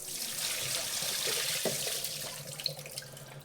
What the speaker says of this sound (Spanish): De este modo voy a quitar el agua una última vez.